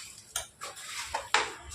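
Spoon stirring a vegetable filling of cabbage with garam masala in a metal pan, four sharp scrapes and clinks against the pan at uneven intervals, close and fairly quiet.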